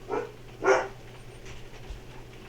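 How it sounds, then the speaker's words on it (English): A dog barks indoors, two short sharp barks close together near the start, then quieter restless sounds, fairly faint against a low background hum. "I don't know why my dog's freaking out now."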